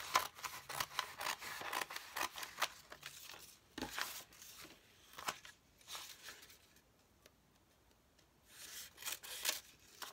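Scissors snip through material for a sunflower art journal cover, with a run of quick, close cuts at first, then quieter rustling and handling, and a few more snips near the end, all fairly soft and without speech.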